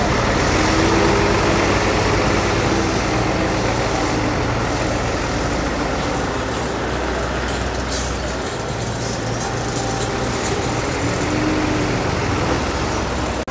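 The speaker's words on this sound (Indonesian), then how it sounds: "Mobil molennya mundur, mungkin akan melakukan pengecoran di bagian sebelah sana guys." A concrete mixer truck reverses on a canal embankment and drainage construction site in Bekasi, giving off a steady, loud low engine rumble that continues throughout, with no talking.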